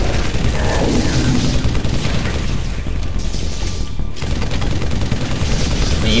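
Dense bursts of weapon fire and booming blasts in Halo 3 during a fight against the Flood, loud and continuous with rapid overlapping shots throughout, no talk over it.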